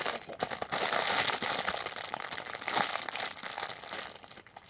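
Crinkly plastic packaging rustles and crackles steadily at close range as a squishy toy is pushed inside, a continuous crisp crumpling with a few sharper crackles and no talking.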